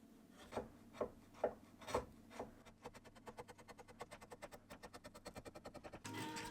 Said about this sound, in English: I then sanded everything by hand.